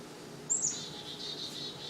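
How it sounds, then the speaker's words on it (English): A chickadee at a backyard feeder gives a faint, short, high call, with a few soft chirps after it against quiet outdoor background. "There's the chickadee."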